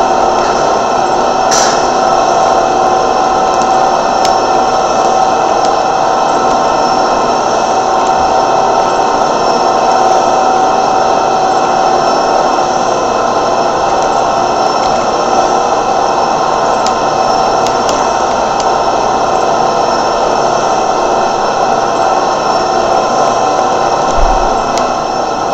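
Loud, constant machinery drones through a ship's rudder room in Garry's Mod, a steady mechanical hum with a high whine that holds unbroken throughout.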